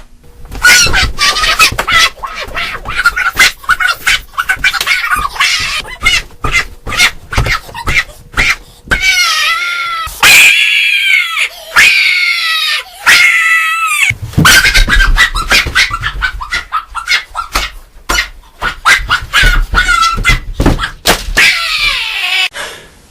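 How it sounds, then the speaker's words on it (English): A person screams in anger, a loud, sustained and raw vocal outburst repeated in long bursts with brief breaks between them. "So just enjoy this clip of me screaming like a bitch."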